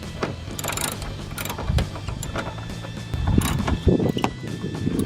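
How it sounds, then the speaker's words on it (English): Hand ratchet turning out 10mm socket screws that hold a 2010-2012 Mustang headlight, giving a quick run of close, crisp clicks in uneven bursts with no talking. "remove the two 10mm socket screws here, one and one there"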